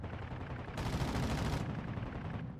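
A dense burst of rapid gunfire rattles for a couple of seconds, loud and continuous, like automatic weapons in Call of Duty: Warzone 2.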